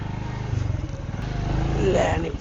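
A motorcycle engine runs steadily, a low throbbing putter that rises slightly toward the end, while people talk loudly over it.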